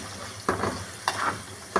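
Cashews fry in a pan as a spoon stirs them, with a steady sizzle and three distinct scraping strokes spaced evenly through the short stretch.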